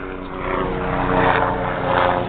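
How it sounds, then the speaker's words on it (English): Steady rotor and engine drone of a helicopter passing overhead somewhere in California, loud and continuous for a couple of seconds with slight swells in intensity, no voices. "I thought I was under a helicopter or something."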